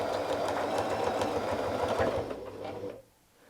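A sewing machine doing ruler-work quilting on a dahlia design hums in a steady fast stitch for about three seconds, easing off before stopping.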